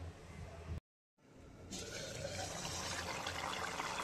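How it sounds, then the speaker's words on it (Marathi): Crab masala curry bubbling in a covered pan on a medium flame, a steady close hiss and simmer that resumes loudly after a brief silent gap. "किती मस्त उकळ आलेली आहे,"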